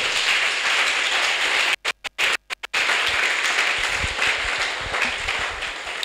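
Church congregation applauding Jesus Christ, a broad, continuous wash of clapping that cuts out in a few brief gaps midway, then carries on steadily to the end.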